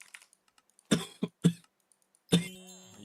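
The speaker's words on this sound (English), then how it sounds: "I've just been coughing." A man coughs several times close up, a couple of short harsh coughs followed by a longer one trailing off, with quiet background between them.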